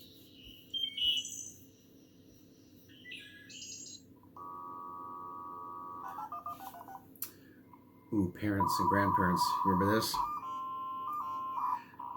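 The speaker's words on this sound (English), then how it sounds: "when we used to have to connect to the internet, it went through the phone lines. And this is what you heard" A dial-up internet modem connects over a phone line: dial tones and DTMF beeps, then screeching, warbling handshake tones that grow loud near the end, after a voice speaks at the start.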